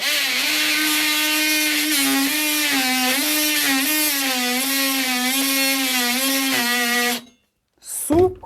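A Parkside PKGA 20-Li C2 20 V cordless 3-in-1 oscillating multi-tool runs with a steady, buzzing motor whine that wavers slightly in pitch for about seven seconds. It then cuts off and gives a brief burst as it restarts.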